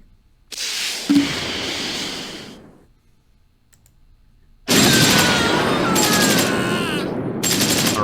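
Bursts of rapid automatic gunfire aimed at enemy infantry in a video game, loud and sustained, separated by a short quiet gap, with a faint click.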